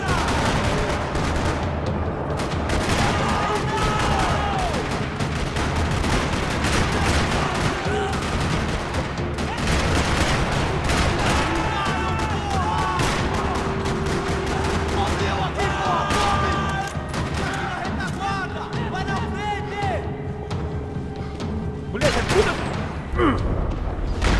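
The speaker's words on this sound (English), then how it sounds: "Another parking lot rattling with gunfire." Rapid bursts of gunfire crackle and rattle almost nonstop in a parking lot in the video game Max Payne 3, layered with booms and game effects, with occasional voices mixed in.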